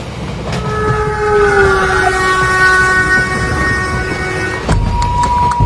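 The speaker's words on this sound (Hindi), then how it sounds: "ये ट्रेन तो इस जंगल में रुकने लगी।" Train slowing to a stop in a jungle, a loud steady rumble of rolling rail cars with long sustained squealing brake tones throughout, ending in a sharp clunk near the close.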